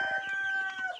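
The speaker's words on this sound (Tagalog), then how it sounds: "Naglabasan na yung mga manok, oh. Oh, nagsilabasan na sila." Young heritage chickens about two months old, Barred Rock, Light Sussex, Buff Plymouth Rock and Rhode Island Red, cluck and call close by as they come out of their pen, a short burst of overlapping bird voices.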